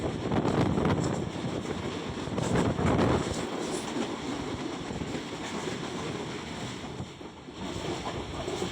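A 6 Town Green Line train led by a U40 locomotive rumbles past close by, a steady broadband roar with heavier surges early on and no talk over it.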